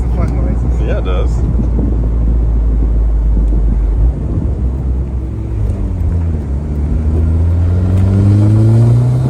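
A turbocharged Mazda Miata engine revs and drones loudly, its pitch climbing steadily near the end, with voices talking over it early on.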